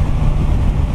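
Loud, low, buffeting wind roar rushes past while riding a Suzuki GSX S1000F motorcycle into a headwind, dense and continuous at close range.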